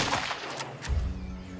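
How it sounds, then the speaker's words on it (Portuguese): Gunfire from the video game Last Train Home: a few sharp, close shot bursts crack over a steady low rumble of in-game background sound. "Vamos esperar o maluco passar aqui, encher ele de tiro."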